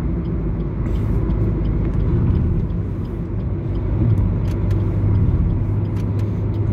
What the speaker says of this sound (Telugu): లారీ వెళ్తుంది చూసారుగా ఎదరా